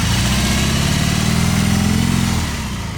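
A BMW R18 motorcycle's new high-torque engine idles loud and close with a deep, even throbbing pulse, then drops slightly in level near the end; no voices.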